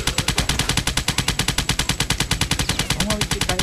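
Rapid automatic gunfire from the Cannon Fodder 3 video game: a loud, steady, fast stream of shots with an even rhythm throughout, and a brief faint tonal blip near the end.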